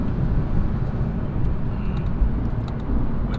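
A Lexus RC F Track Edition cruising slowly around a race track, heard from inside as a steady low engine and road drone, even and continuous with no revving, close and moderately loud.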